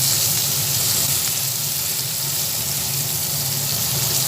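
Onion, garlic and ginger paste fry steadily in a pan for a ghugni, a dense continuous sizzle with faint scraping as the mixture is stirred, close and fairly loud with no talking.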